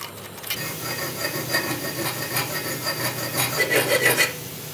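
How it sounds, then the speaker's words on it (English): A metal file scrapes out the tops of welded-up holes on a steel sword blade in close, repeated rasping strokes with a steady back-and-forth rhythm, heard alone. "I have to file out the tops of these holes as well"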